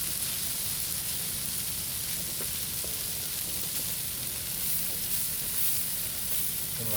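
Bacon frying in a cast iron pan, a steady broadband sizzle and crackle that stays even and close throughout, with no voices.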